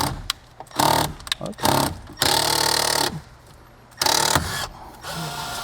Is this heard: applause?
no